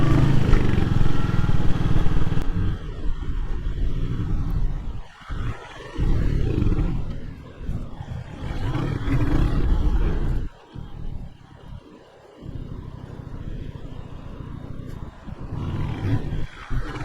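A motorcycle being ridden back along a road during a 1981 bike test, its engine a loud steady roar with rising and falling throttle and a few brief dips, no talking.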